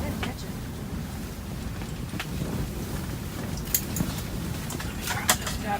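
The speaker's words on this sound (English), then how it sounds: "here comes the wind" Strong wind gusting over a lake during a storm while perch fishing, a steady broad roar with a few sharp knocks and buffets near the end, loud and close.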